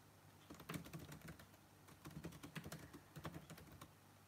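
Fast, light clicking of fingers typing on a computer keyboard, quiet and close, in bursts with brief pauses and no talking.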